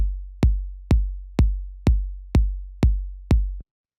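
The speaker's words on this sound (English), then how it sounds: "So the first sound I have here is this 808 kick," An 808 kick drum sample thumps eight times at an even mid-tempo pace, each hit deep and booming with a sustained low tail, loud and dry, then silence at the end.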